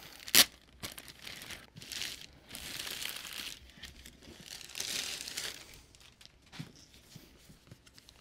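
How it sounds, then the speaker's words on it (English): Tape is peeled slowly from the plastic window of a boxed Lionel Disney 100 Mickey Mouse handcar, giving faint, close crinkling and tearing sounds in short bursts with a sharp snap near the start. "I just got to be careful with this tape or else it'll tear the plastic."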